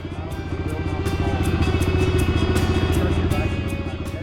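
Off-road motorcycle ridden through soft desert sand at Ocotillo Wells, California, its engine a loud, steady droning rumble with rapid pulsing throughout, close and continuous with no talk.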